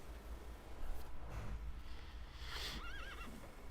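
A horse whinnies in the video game The Thaumaturge, a wavering high call rising over a low, faint rumbling background with soft hoof-like thuds.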